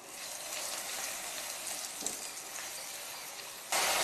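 Spice paste with ginger paste sautés over low flame in a pan for a coconut curry, a soft continuous crackling sizzle, moderately close, with one brief clink and a louder burst of hiss near the end; no talking.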